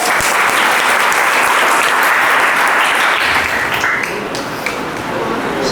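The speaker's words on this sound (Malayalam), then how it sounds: "വാ, എല്ലാവരും ക്ലാപ്പ് കൊടുത്തേ." An audience in a talk hall bursts into loud, dense clapping that holds steady for several seconds, then thins slightly toward the end.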